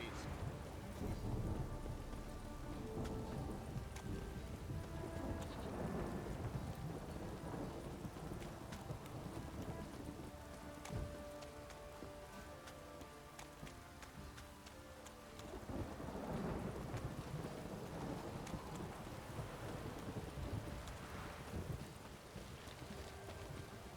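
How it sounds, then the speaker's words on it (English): Heavy downpour with rolling thunder in The Witcher 3: Wild Hunt, a dense steady hiss of rain across the whole stretch with deep rumbles swelling and fading, continuous and enveloping. "This downpour's a bastard, it is."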